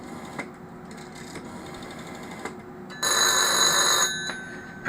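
An old telephone rings after being dialled: a loud, bright bell burst of about a second, set against quiet room noise and a few faint knocks.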